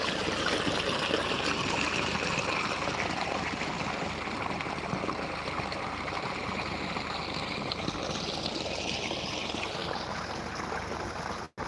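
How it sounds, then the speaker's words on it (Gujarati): Irrigation water runs steadily into a farm field sown with a winter crop, a continuous close rushing and trickling wash with no pauses, holding even throughout and cutting off abruptly at the very end. "અહીંયા મિત્રો આપણું પાણી આવે છે"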